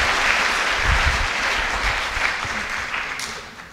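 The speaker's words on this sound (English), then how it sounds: "can we give a better clap than that one?" A lecture audience claps in a dense, even round of applause that fills the room and slowly tapers off over a few seconds.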